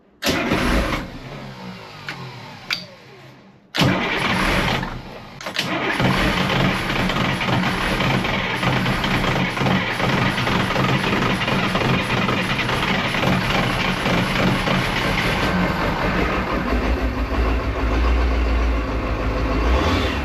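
A Detroit Diesel marine boat engine cranks and coughs, cuts out, then catches and settles into a loud, steady rumbling idle that runs on close and constant with no talking.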